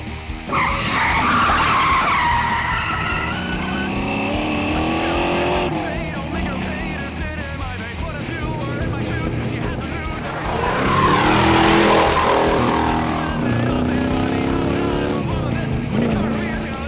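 A police car chase on a highway, with tires skidding and squealing loudly over racing engines and sirens for the whole stretch, while voices talk over the noise.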